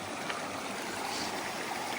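The Bohdan river, a mountain river in the Carpathian forest, rushes and gurgles in a steady, loud, broadband wash close by, with no voices over it.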